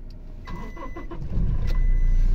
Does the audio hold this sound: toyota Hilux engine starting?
yes